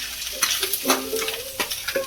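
A spoon stirs onion, ginger-garlic paste, cumin and coriander powder frying in a pan for a Bengali egg curry, with several distinct scrapes over a steady sizzle, close and without talk.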